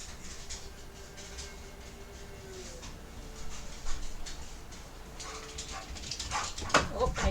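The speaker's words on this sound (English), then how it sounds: "Oh, I hear puppies." Puppies whimpering and yipping in the Witcher 3 game world, faint and intermittent beneath ambient game sounds, with a few brighter yips toward the end.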